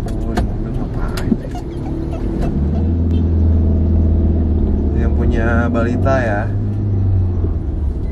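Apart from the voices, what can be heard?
car passing by outside the house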